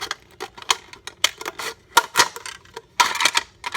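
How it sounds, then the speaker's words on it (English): Scissors snip through a plastic cup into strips, giving a series of sharp, crisp cuts and crackles in an irregular rhythm, close and fairly loud with no talking. "you just take your cup and cut strips"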